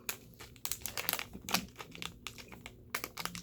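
A small Ziploc-style plastic bag crinkled and handled up close, with sharp irregular bursts of crackling rustle and short pauses between them, no talking.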